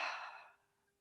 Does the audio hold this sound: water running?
no